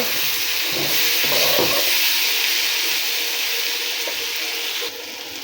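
Bitter gourd frying in a pan with softened onions is stirred, a loud steady sizzle with a few scraping stirs early on, easing slightly toward the end.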